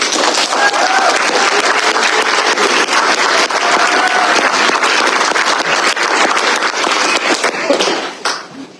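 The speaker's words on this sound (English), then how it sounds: "please give all these folks a round of applause" Applause from an audience at a press conference rejecting school vouchers, a loud, dense wash of many hands clapping that holds steady for most of the stretch, then thins and fades near the end.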